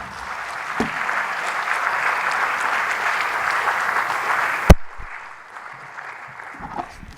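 Audience applause at a public lecture, a steady, dense wash of clapping that carries on for several seconds, then cuts off sharply and leaves a quieter room with a few scattered claps and faint movement.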